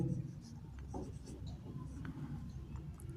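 Writing on a board during a physics lesson comes through as faint, close scratchy strokes under a low murmur of background voice.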